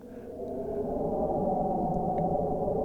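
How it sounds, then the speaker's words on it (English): A Roland Alpha Juno synthesizer plays a soft wind pad patch, a sustained, warm, breathy tone that swells gently and holds steady, alone. "A simple wind pad."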